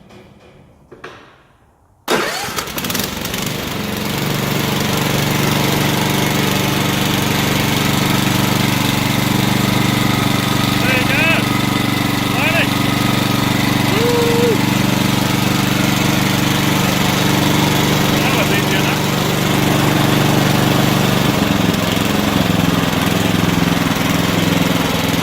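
After a few seconds of quiet clunks, the replacement engine of a John Deere L110 riding lawn mower starts and settles into a loud, steady drone that runs on without pause.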